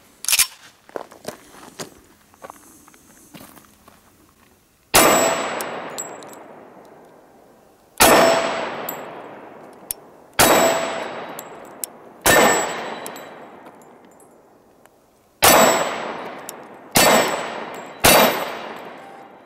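Seven loud, sharp gunshots from a Sig Sauer Compact Nickel 1911 .45 pistol fired offhand outdoors, each crack followed by a long ringing decay, spaced irregularly and preceded by soft handling clicks and rustling.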